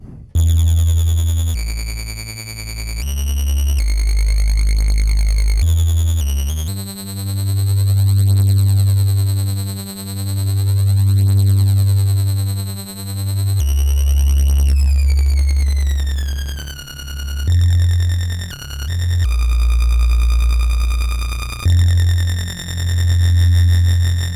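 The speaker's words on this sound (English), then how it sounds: "The distortion's probably too much on this particular patch." A U-he Bazille software synthesizer patch with heavy distortion and harsh foldback plays loud sustained tones, shifting abruptly between held notes and pulsing buzzy passages with a deep low end, no voices.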